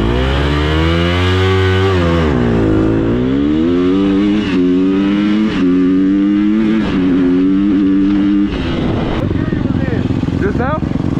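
A Yamaha Raptor 350 quad fitted with a 600cc motorcycle engine roars loudly and close, revving up and falling back with rising and dipping engine pitch, as people talk over it.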